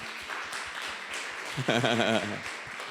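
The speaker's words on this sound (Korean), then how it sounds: "우리 자리에서 우리 같이 박수로 환영하도록 하겠습니다" A church congregation at a Sunday worship service claps in welcome, a light, rapid patter of hands mixed with a speaking voice and some music.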